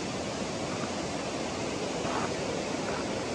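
Continuous rushing of a river at White Stone, a broad even hiss of flowing water heard nearby without voices, steady from start to end.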